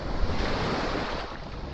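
Waves at Bulabog Beach on Boracay wash steadily ashore under heavy wind buffeting the microphone. The surf gives a low, constant rush, and no one speaks.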